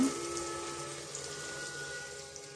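Water pours into a cooking pot while semiya payasam is being made. A soft, steady stream of splashing stays faint and even throughout, with no talk.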